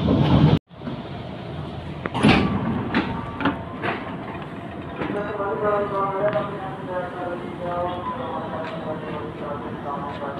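A KRL commuter train rumbles into Kampung Bandan transit station in Jakarta with rhythmic clacks over the rails, a squeal of brakes, and a sharp door bang near the start, with faint announcement-like voices.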